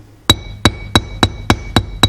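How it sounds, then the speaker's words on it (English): A hammer strikes leather with its flat side seven times at a steady rhythm, each blow a sharp, close knock with a short ringing tail, as in leathercraft for a collar. "flat side of the hammer for the first strike, and then the round side"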